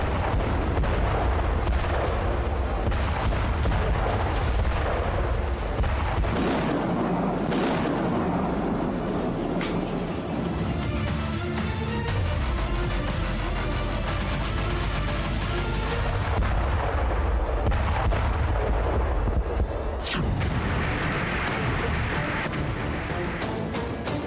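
Heavy artillery fire and rocket and missile strikes in the war in Ukraine, a loud continuous barrage of deep booms and crashing blasts with little let-up.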